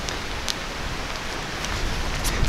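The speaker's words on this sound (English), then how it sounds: "Rain." Rain falling outdoors makes a steady broadband hiss with scattered droplet ticks, continuous and moderately loud throughout.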